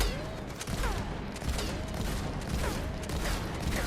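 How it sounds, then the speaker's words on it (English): Shotgun blasts in the fantasy shooter video game Tiny Tina's Wonderlands, several sharp bursts within a busy, loud mix of game effects and whooshing ability sounds. "But at least I'll get to check out how the shotgun works."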